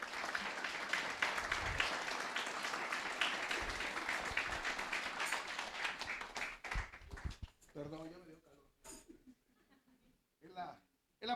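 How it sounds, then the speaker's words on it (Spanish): A church congregation applauds loudly together, a dense roar of clapping mixed with cheers that swells, then breaks into scattered claps and a few voices before fading. "Dale un fuerte aplauso a Dios."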